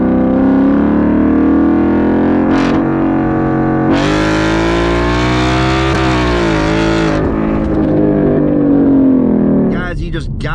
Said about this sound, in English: you just got to love that internal combustion V8 just scream